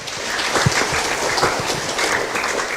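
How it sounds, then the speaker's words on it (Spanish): Congregation applauding during a Catholic Mass at Caacupé, Paraguay: a steady, dense wash of many hands clapping that holds evenly throughout the clip at moderate loudness. "un fuerte aplauso para ellos"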